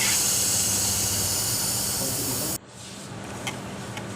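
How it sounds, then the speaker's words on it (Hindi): A soda maker machine builds up pressure to carbonate chilled water, giving a loud, steady, close hiss that cuts off abruptly partway through and leaves a quieter, softer hiss with faint clicks. "ये सोडा बन रहा है"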